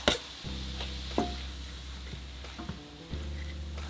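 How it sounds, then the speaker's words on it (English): Minced garlic, ginger and onion sautéing in a deep saucepan, a soft steady sizzle with a low hum and a few utensil clinks and scrapes, no talking. "add some minced garlic, ginger, and onion. Let that saute for 3 or 4 minutes"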